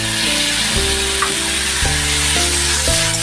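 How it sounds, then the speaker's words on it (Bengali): Vegetables sizzle loudly in a pan with a paste of ginger, green chilli and radhuni for Dhakai shukto, a dense continuous frying hiss over low tonal background music. "আদা কাঁচা লঙ্কা এবং রাঁধুনি বাটা এই মশলাটা দিয়ে এবার এই সবজিগুলোকে খুব ভালো করে আমি কষে নেব"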